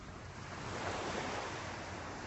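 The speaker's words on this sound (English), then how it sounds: "Calm waves, a light breeze." Calm Atlantic Ocean waves wash ashore at Deerfield Beach, Florida, in a soft steady hiss of surf mixed with light breeze, faint and continuous with no voices.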